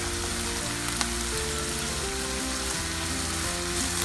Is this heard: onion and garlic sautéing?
yes